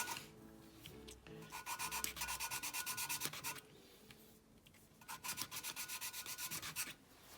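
Hand-lapping an engine valve onto its seat on a GM 151/153 engine: a fast back-and-forth gritty grinding in two rhythmic spells, close and fairly quiet, with a softer scraping pause between them.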